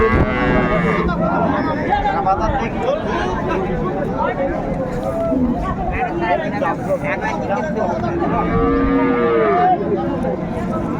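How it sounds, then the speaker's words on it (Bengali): Cows and calves at the Raniganj cattle market moo repeatedly in drawn-out calls over loud crowd chatter and bargaining voices, with several animals sounding near and far across the market. "আমরা দেখছিলাম গাভী বাচুর"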